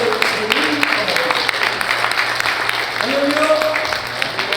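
A church congregation at a Liberation Day worship service claps continuously to welcome their senior pastor, a broad wash of applause with voices rising faintly underneath.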